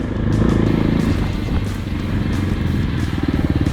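An AJP off-road motorcycle ridden through a forest, its engine droning loudly and close with a steady, rumbling buzz that rises and falls slightly as the throttle changes, with no talk over it.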